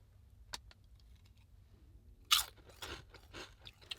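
Crisps being eaten, a sharp crunchy bite followed by several softer chewing crunches up close, with a few small clicks beforehand in a quiet room.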